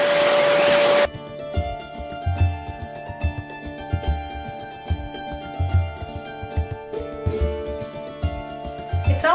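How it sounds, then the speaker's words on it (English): After a brief loud burst, a vacuum cleaner with a brush attachment hums steadily while bumping and knocking sounds recur as it moves across a surface. "I'm going to go and look over with my vacuum"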